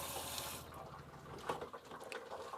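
Tap water running hard into a household sink fitted in a Sprinter van conversion, a steady powerful gush with splashing that shifts in tone midway, heard alone at close range.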